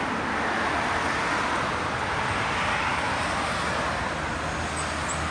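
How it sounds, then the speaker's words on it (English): Steady roadway traffic rumbles outside a pop-up gift shop, a continuous broadband wash of passing vehicles, fairly close and unbroken, with no talking. "Sorry about the traffic noise,"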